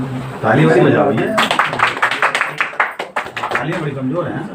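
Scattered audience clapping at a Hindi poetry gathering, a brief patter of hand claps in the middle with someone talking before and after it, fairly close and modest in volume.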